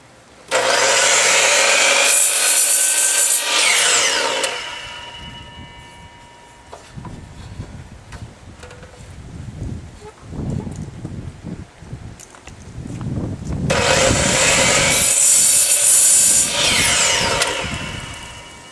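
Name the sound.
DeWalt cutoff saw cutting wood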